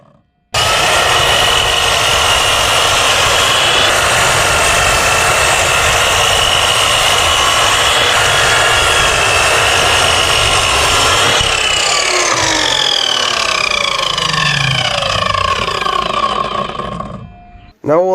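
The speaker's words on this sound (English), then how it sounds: "I headed over to the sliding compound miter saw and I squared" A sliding compound miter saw cuts through 18mm plywood, a loud, steady, close grinding rasp holding for about eleven seconds before the blade winds down with a falling whine and stops.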